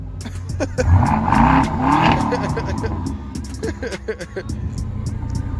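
A car engine on a cold start revs loudly up and down nearby amid crowd noise, with people talking and exclaiming over it and sharp clicks scattered throughout.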